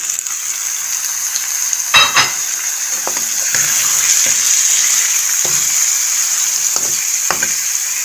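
Kachnar buds added to a pot of spiced mutton masala, giving a steady close sizzle with a few sharp clatters of utensils and stirring knocks scattered across it, no voices.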